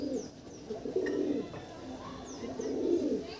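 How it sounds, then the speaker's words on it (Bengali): Andhra pigeons cooing in soft repeated rolling phrases close by in a loft, with a few thin high chirps mixed in over quiet background noise. "এগুলো আন্ধ্রা পায়রা থাকছে।"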